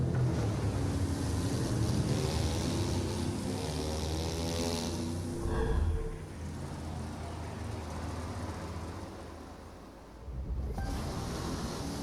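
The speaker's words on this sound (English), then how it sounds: "Tame, unpredictable waves on the open ocean, rapid waters, or narrow rivers" A boat cuts across open ocean waves in a video game trailer, a continuous loud rush of water and engine with splashing surges and one sudden heavy impact near the end, no talking.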